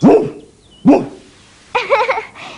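A dog gives two short barks close by, then a longer whining, yelping vocalization, with quiet gaps between the sounds.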